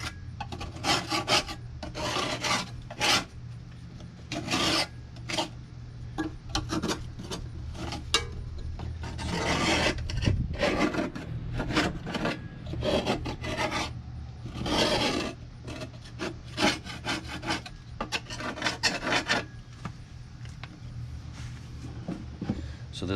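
Scraping caked wet grass off the rusty underside of an old Toro mower deck, repeated close rasping strokes in irregular bursts with short pauses between them.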